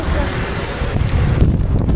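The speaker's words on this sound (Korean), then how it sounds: "오늘 바람이 장난 아니네요." Strong gusting wind buffets a cyclist riding a bicycle across Turkey in below-freezing weather, roaring loudly into the microphone as a continuous rough blast that swells slightly toward the end.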